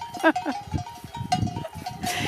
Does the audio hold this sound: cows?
yes